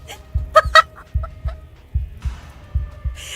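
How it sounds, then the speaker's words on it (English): Chicken clucking from the Slay the Princess video game, a series of short, throaty clucks and squawks in an uneven rhythm, fairly close and clear with no talk over it. "Because she's a chicken."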